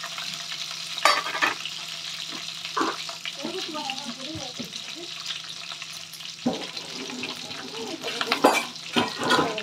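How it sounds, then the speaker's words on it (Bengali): Spices and ginger fry in a pan for a paneer Hyderabadi dish, a steady close sizzle with occasional stirring scrapes and clinks throughout. "চলো মশলাগুলোকে ভেজে নিই, আর আদা এগুলোকে ভেজে নিই"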